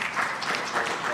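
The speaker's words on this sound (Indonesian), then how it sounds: "Ya, tepuk tangan." Steady applause from an audience at a ministerial meeting, a brief, even wash of clapping with no break.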